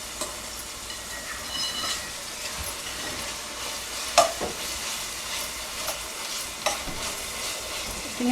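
Spices and chili powder sizzle in hot oil while being stirred for a pesara punugulu pulusu lentil-fritter curry. Steady frying hiss runs throughout, with occasional sharper scrapes and clinks of the spoon.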